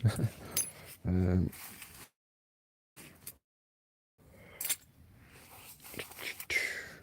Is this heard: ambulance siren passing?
no